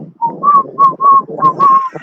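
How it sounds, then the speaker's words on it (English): A person whistles a short tune of sustained, clear notes in a rhythmic series, close and loud, with a soft breathy undertone beneath each note. "you wild with that whistle"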